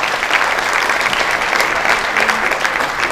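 An audience at a provincial official-language commission convention in Chhattisgarh breaks into applause, a thick wash of many clapping hands, loud and sustained, with faint murmuring under it.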